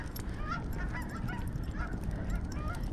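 Geese honk repeatedly overhead in a city park over a steady rushing background, the calls fairly faint and distant, with no voices.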